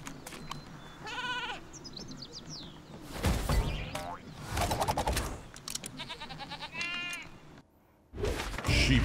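Sheep Creep, a sheep villain in the video game Skylanders Trap Team, gives several wavering, nasal bleats amid loud game effects, thumps and bright blasts, with music running underneath.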